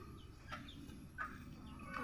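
Faint chicken clucks sound a few times at a distance over a low background rumble.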